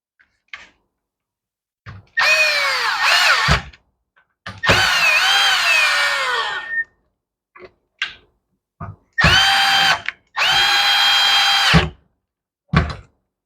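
A power tool tightens the carburetor on a Ryobi weed eater in short separate bursts, each one whirring up and then stopping, with a few brief clicks and clunks in the gaps between.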